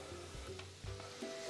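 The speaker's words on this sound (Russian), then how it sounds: "Высыпаю в кастрюлю морковь и лук." Carrots and onions sizzle in hot vegetable oil in a soup pot for pumpkin soup, a continuous crackling fry with a few stirring scrapes and clunks.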